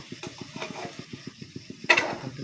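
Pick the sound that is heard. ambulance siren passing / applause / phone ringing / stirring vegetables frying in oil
stirring vegetables frying in oil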